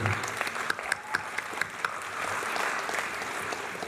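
Audience clapping at a TEDx talk in Shanghai, a steady even patter of many hands, moderately distant and fairly quiet, with a few sharper individual claps standing out early on.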